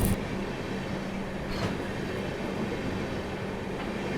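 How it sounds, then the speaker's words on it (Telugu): The Vaishali Superfast Express, running from Saharsa to New Delhi in India, rumbles past steadily and close by, with a continuous roar of rolling wheels and a brief squeal. "సహర్సా నుండి న్యూఢిల్లీ వెళ్ళే Vaishali super fast express crossing"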